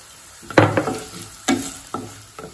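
Dried red chillies and turmeric fry in oil with several short bursts of sizzling and stirring scrapes, each flaring up then fading, close and fairly soft.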